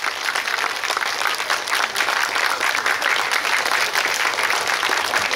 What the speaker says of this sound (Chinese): 掌声鼓励一下。